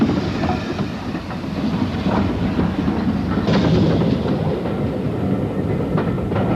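A heritage railway train near Bewdley and Kidderminster Town rolls steadily along the track, a continuous loud rumble with rhythmic clickety-clack of wheels over rail joints, no voices.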